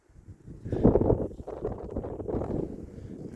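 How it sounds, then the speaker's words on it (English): Wind gusting at a lookout station in Mesa Verde National Park, Colorado, a rough rumbling buffet against the microphone that swells and stays steady. "It's windy."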